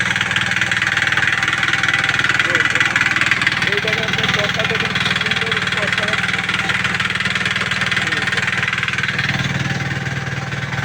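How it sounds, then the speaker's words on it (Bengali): A hand power tiller engine runs steadily nearby, a continuous mid-pitched drone with a faint rhythmic knock; muffled voices are audible underneath it. "এই যে আমাদের হ্যান্ড পাওয়ার টিলার"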